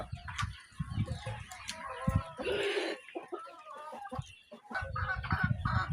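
A nine-month-old adult farm rooster clucks and calls in short bursts close by, with other fowl and faint farmyard noise around it.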